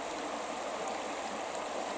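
River water flows in a steady, even rush with a soft gurgling hiss, continuous and moderately quiet, with no voices.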